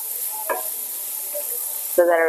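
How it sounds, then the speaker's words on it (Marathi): Onion fries in a pan for red sauce macaroni, giving a steady close sizzle with a few stirring scrapes and a louder stir at the end, no voices. "कांदा आपल्याला शिजून द्यायचा आहे कांदा चांगला आपला फ्राय झालेला आहे"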